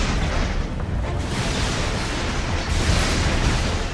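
Huge explosion tearing through a city in the video game Infamous, a sustained roaring rumble of blast and debris, dense, loud and continuous without voices.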